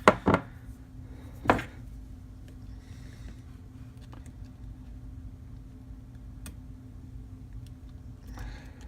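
A few sharp snips from cutters trimming a resistor's pin lead, two quick clicks near the start and another around a second later, close and alone against a quiet workbench hum.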